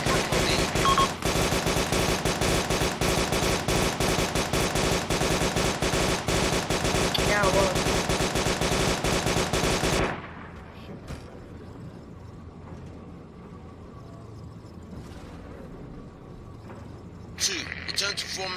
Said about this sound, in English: Yeah, you're shooting at friendly.